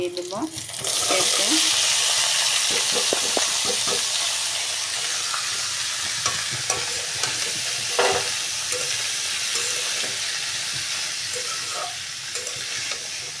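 Chopped onion, seasoned with a cumin tempering, sizzles steadily in a pan for a papaya stir-fry, with repeated scraping and clacking of a spatula stirring it through the hiss, close and fairly loud.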